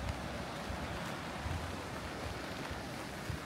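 Sea waves along the Busan coast near Yonggungsa Temple, a steady broad wash of surf with low rumbling swells and some wind buffeting, heard alone without talk.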